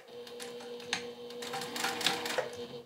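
Sewing machine top stitching back and forth while making a gaming sling bag, a steady mechanical hum with rapid needle clatter and slight shifts in pace, close and continuous.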